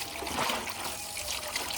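Water trickles in a steady, faint, continuous stream, a soft hiss without pauses and no voices over it.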